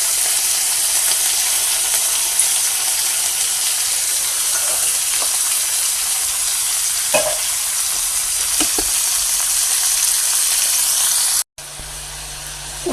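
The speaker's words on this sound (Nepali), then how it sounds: "नुन र तेलले चाहिँ यसलाई मजाले यसरी फ्राई हुन दिन्छ।" Timur (Sichuan pepper) fries in hot oil with salt, giving a dense, steady sizzle with occasional small pops and scrapes. The sizzle cuts off abruptly near the end and a quieter, duller frying sound follows.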